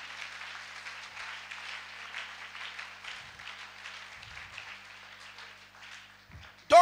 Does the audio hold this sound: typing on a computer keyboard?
no